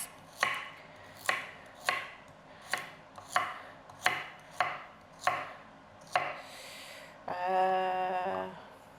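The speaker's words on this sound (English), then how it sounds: "Now, I need to dice this. Finely diced. I've never finely diced a carrot." A knife finely dices a carrot on a board in a home kitchen, making eight or so evenly spaced, sharp chopping knocks close by, then a brief scraping, rasping sound at the end.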